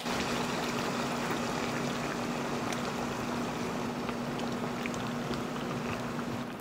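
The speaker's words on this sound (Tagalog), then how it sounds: "pwede na tayo maglagay ng tubig." Water pours into a pan of sautéed pork and bagoong for pakbet, giving a continuous close hissing, bubbling wash with a faint steady hum beneath and no voices.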